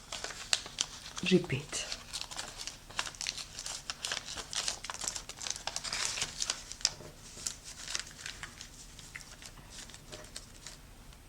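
Origami paper being folded and tucked for a kusudama, with crisp crinkling and rustling through most of the stretch, under a voice speaking.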